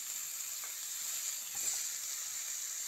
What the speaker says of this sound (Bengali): এবার ওই মাছ ভাজা তেলেই আমি আলু ভেজে নেব।